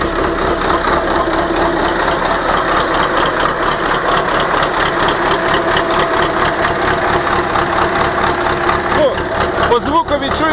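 A YuMZ tractor's hot D-240 diesel engine, an MTZ-type motor, runs at a loud, steady, close-up idle with a rough knocking chug throughout.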